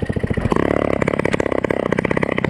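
A mob-cross moped engine, set with choke and decompressor, catches after a few clattering turns and settles into a loud, rapid, uneven two-stroke putter close by.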